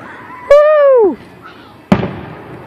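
A single loud Fourth of July firework burst booms nearby and decays with a rumbling tail, just after a person's drawn-out cheer in Chillicothe.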